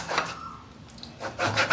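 Roasted green mangoes are rubbed by hand to press the soft pulp out, giving a few brief soft squishing, scraping sounds, close and quiet.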